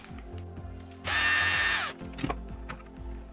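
A brief burst of a small electric screwdriver or drill undoing screws on the shock absorbers of a WLtoys 144001 RC car, lasting under a second, close and fairly loud, with light handling clicks of tools and parts around it.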